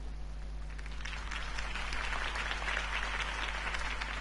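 A crowd applauds at a political campaign rally in a Batman video game, a fairly quiet, continuous clapping over a low steady hum, rising slightly midway.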